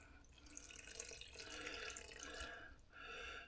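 Warm water runs steadily from a kitchen tap while a dough is being made, a continuous broadband hiss and splash close to the microphone, briefly easing near the end before flowing again.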